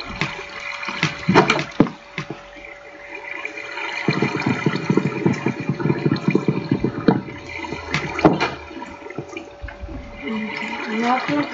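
Water flows in a Minecraft world, a bubbling, gurgling rush that runs strongest through the middle of the stretch, alongside clicks and short game noises, heard up close and fairly loud.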